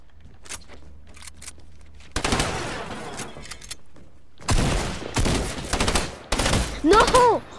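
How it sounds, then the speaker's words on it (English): Pump and tactical shotgun fire in Fortnite, with loud, separate blasts in bursts among quieter game sounds and a short voice near the end. "I shot with my pump. With my tactical, I mean."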